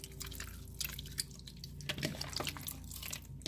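Squishy cloud slime being stirred and mixed by hand, giving quiet, wet squelching and dripping clicks in an uneven rhythm, close and soft, with no talking.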